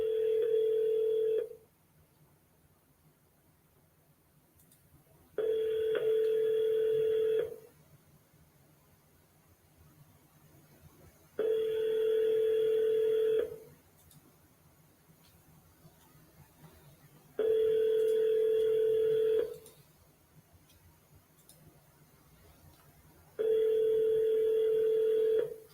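Outgoing phone call ringback tone: five evenly spaced, steady two-second ring bursts separated by roughly four-second gaps, clear and alone over a faint line hiss.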